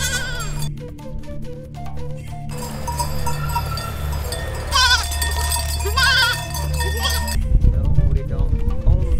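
Goats bleat repeatedly, close and loud, over a clinking cowbell and outdoor background noise, with some people talking, high in the Zhangjiajie mountains in China.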